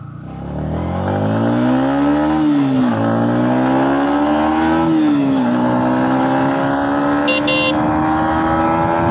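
A Yamaha MT-15 motorcycle engine revs up loudly and accelerates on a highway, its pitch climbing through gear shifts as it speeds along, close and continuous.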